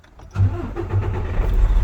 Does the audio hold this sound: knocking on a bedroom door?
no